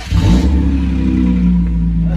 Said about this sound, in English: let's get an exhaust clip real quick